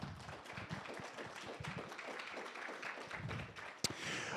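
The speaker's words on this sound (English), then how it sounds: "let's give a round of applause for all of our contestants today" Audience at a 3MT research presentation competition applauding the contestants, steady close-miked clapping from a modest crowd, fairly quiet overall, with one sharp thump near the end.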